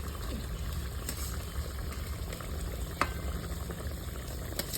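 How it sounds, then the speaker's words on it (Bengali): Water boiling in a pot before fish is added for a village-style fish curry, a steady low bubbling rumble with occasional faint clicks and pops, close and continuous. "জলটা ফুটে গেলেই মাছটা দিয়ে দেবো"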